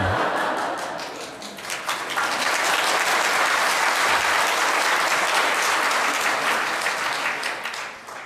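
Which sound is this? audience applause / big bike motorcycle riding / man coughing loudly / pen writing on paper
audience applause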